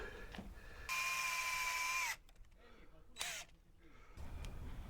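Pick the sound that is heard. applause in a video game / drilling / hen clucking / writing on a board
drilling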